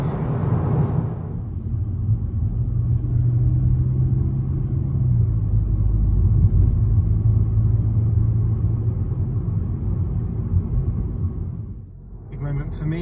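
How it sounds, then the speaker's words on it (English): A VW Golf driving on the road toward Wolfsburg, its steady low engine and road rumble droning close and continuous for the whole stretch, easing briefly near the end, with talk from inside the car over it. "driving to Wolfsburg in a Golf for the first time ever"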